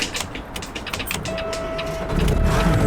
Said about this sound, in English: What do the windows sound like in this one?